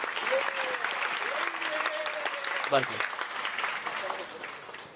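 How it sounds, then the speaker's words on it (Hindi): An audience at a spiritual talk claps loudly and steadily for several seconds, with a voice speaking over the dense, close applause. "यार इनके लिए तालियां बजाइए सब जोर से।"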